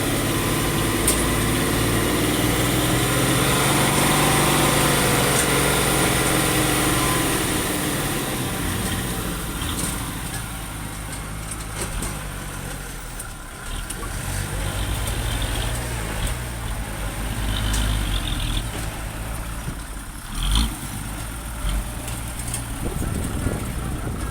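A diesel Kubota L5018 tractor engine drones at length, revving higher then easing off, with clanks and occasional voices in the background, during land-filling work.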